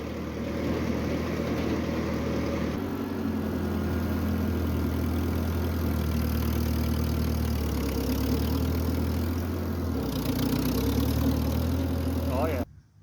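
A 1948 Ford 8N tractor engine runs steadily close by during a lap on wet ground with no air cleaner fitted, a low chugging drone that shifts pitch a few times before cutting off, with someone speaking over it.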